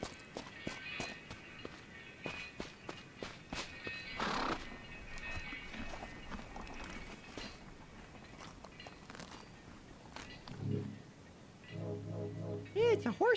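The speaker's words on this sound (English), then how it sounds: "Yeah, it's a horsey." A horse in a video game walks with clip-clop hoofbeats and snorts, then gives a short neigh near the end, while a person talks intermittently over the game sounds.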